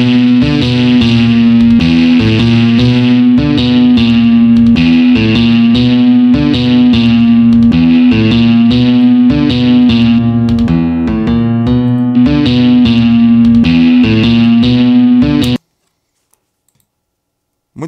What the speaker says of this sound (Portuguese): Vamos escutar como é que fica esse riff aqui com a distorção.